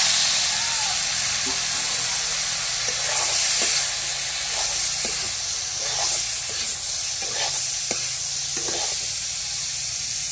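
Pieces of elephant apple (chalta) sizzle in a hot pan with dry cumin, a steady loud hiss broken by repeated stirring scrapes and spatula knocks.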